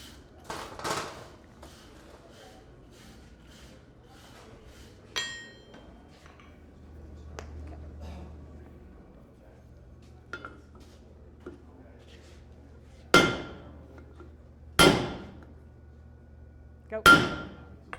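A blacksmith's hammer strikes metal at a forge, with scattered lighter taps early on and then three loud ringing blows spaced a couple of seconds apart near the end.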